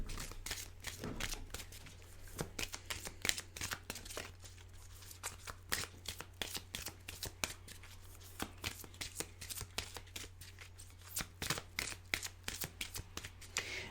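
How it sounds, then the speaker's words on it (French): Tarot cards spilled and being gathered up by hand, a steady run of quick papery slaps, shuffles and flicks close by, with a low steady hum underneath and no talking. "je viens de faire tomber toutes mes cartes"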